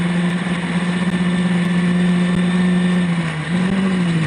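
Historic racing cars roar past on a track, a loud sustained engine drone with steady pitch and a brief dip and rise near the end, close and continuous without voices.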